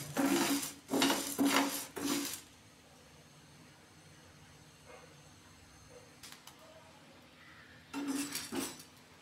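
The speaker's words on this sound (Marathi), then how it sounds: "सर्वात आधी आपण साबुदाणा व्यवस्थित भाजून घ्यायचा आहे।" Dry sago pearls roast in a pan on the gas stove while a spoon stirs them in two short bursts of scraping and clinking, separated by a quiet stretch of faint background hum.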